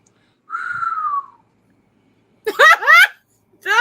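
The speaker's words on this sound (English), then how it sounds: "Just a whistle." A person whistles a single gliding tone, clear and fairly loud, that slides gently downward and fades; after a pause, voices speak close by.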